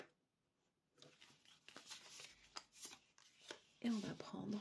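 Oracle cards are handled and shuffled close by, with soft papery rustles and flicks, while someone speaks French over them.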